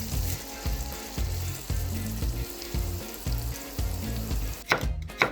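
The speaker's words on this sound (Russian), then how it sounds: "Высыпаем на сковородку в разогретое растительное масло." Food is tipped into hot vegetable oil in a frying pan and breaks into a sudden sizzle near the end, after a stretch of steady background music.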